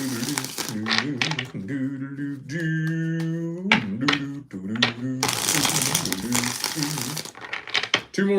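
A deck of tarot cards is shuffled in quick papery riffles and bursts, with a voice talking over and between them throughout.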